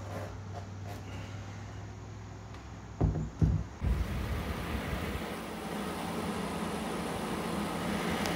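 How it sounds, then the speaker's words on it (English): A steady broadband whoosh of an air-conditioning fan runs throughout during 3D printer assembly, with a few bumps and clatters partway through and no speech. "sorry about the AC fan here"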